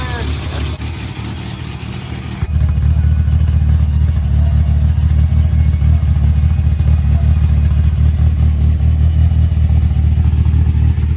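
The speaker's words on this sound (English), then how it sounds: "I don't wanna bang it off the limiter right when it's cold" A pickup truck with a 22RE engine and a two-step rev limiter runs loud and close, shifting from a lower rumble into a sustained, choppy, pulsing high-rev drone held steadily against the limiter.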